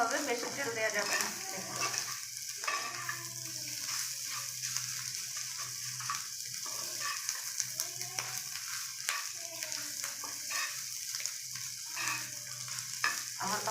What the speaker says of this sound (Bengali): একদম কম তেলে ভাজতে হবে,